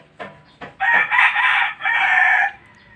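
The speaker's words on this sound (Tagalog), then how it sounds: "nagpakain ako ng aking mga manok at kanya-kanya ng hapunan sa sanga ng kahoy" Backyard chickens settling to roost on tree branches at dusk cluck a few times before a rooster lets out a long, loud, close crow that breaks briefly and carries on.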